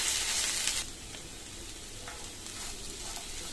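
Okra fry with salt and coriander powder being stirred in a pan, giving a steady sizzle. It is loudest at first, then settles lower with a few light scrapes of the spoon.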